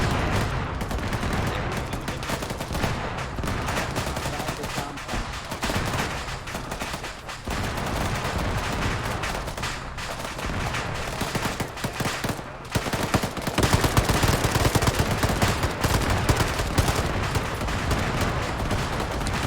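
Sustained gunfire in a Ukrainian ground infantry video game, with repeated sharp shots and automatic bursts packed densely across the whole stretch and growing louder toward the end.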